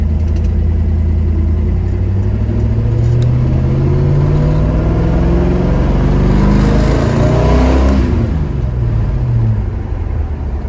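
A 1971 Chevrolet Chevelle's engine rumbles loudly up close as the car pulls away, the deep exhaust note rising and shifting steadily as it accelerates, with no talking.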